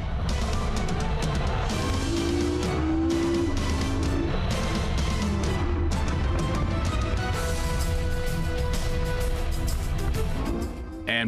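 Porsche 918 Spyder hybrid sports car on a test lap, a loud sustained engine roar with rising and falling revs and gear changes, close and continuous throughout.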